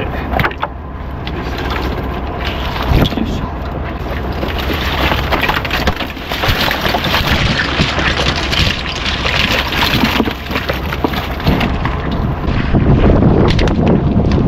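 Strong, constant wind buffets a small boat out at sea, roaring loudly into the microphone for the whole stretch, with water noise underneath and no voices.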